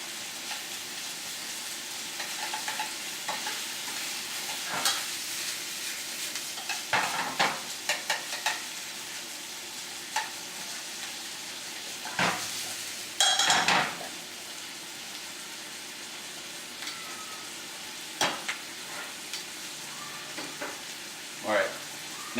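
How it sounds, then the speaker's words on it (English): Smoked pancetta sizzles gently in a pan for rabbit braise, a steady soft frying hiss broken by occasional utensil scrapes and brief clatters, with no one speaking. "once the smoked pancetta hits the pan, you can really just start just smelling the flavors being released while it's cooking"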